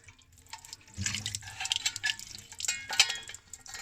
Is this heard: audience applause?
no